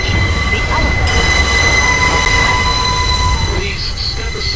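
A New York City subway 4 train stands in the station at 161 St–Yankee Stadium, with a loud, steady rumble and hiss and a high squeal toward the end. A recorded announcement runs through part of the stretch.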